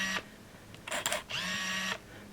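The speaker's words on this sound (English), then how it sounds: "the lens in there moves to focus. And I see the shutter actuating." An Olympus Infinity Stylus Zoom DLX 35mm film camera clicks its shutter, then its motor whirs in two short bursts as the lens drives to focus, close and clear with no speech.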